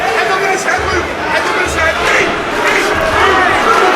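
An arena crowd at a Cage Warriors mixed martial arts fight roars and chants a fighter's name, a dense, loud, continuous wall of voices with rhythmic chanting swells throughout.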